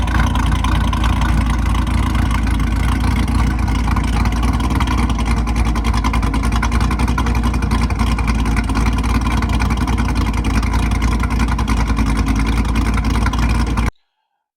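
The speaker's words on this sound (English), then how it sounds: "I'll insert an engine clip here for you." A Chevrolet Camaro SS 1LE making 600 rear-wheel horsepower, its engine a loud, steady, dense rumble held close for about fourteen seconds before cutting off abruptly.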